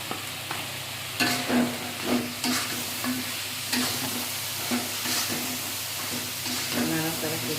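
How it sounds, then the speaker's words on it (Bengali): Meat stirred and browned in a hot pan, a steady low sizzle with repeated scraping strokes of a spatula at an even rhythm, close up, with faint background voices. "নাড়াচাড়া করে মাংসটাকে কষিয়ে নেব"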